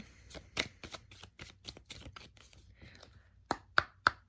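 Tarot cards handled and pulled from a deck, a run of quick, crisp flicks and riffles close up, ending in three sharper slaps as cards are set down.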